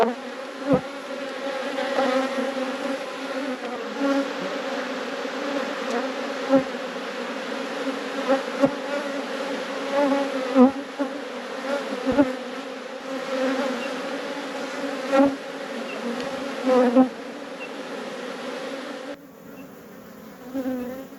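Honey bees at an open hive in a busy apiary drone in a loud, dense buzz that holds steady from start to finish, swelling slightly at moments, with no one talking.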